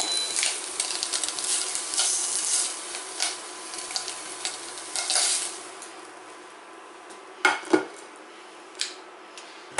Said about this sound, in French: je fais cuire les dernières tranches de bacon